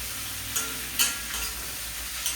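Curry ingredients sautéing in a pan make a steady close sizzle, with a few soft scrapes of stirring on top and no talk.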